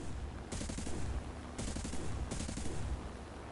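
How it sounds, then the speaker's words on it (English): Aircraft machine guns and a cannon fire in War Thunder, three rapid bursts of dense chattering gunfire over a steady engine drone, moderately loud. "30 caliber machine gun,"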